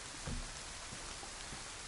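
Steady rain falls across the open landscape of the survival game DayZ, a constant broadband hiss with scattered soft drop impacts, fairly quiet and unbroken, with no voices.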